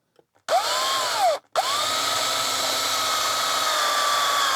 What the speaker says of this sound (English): So I'm gonna drill it out some more.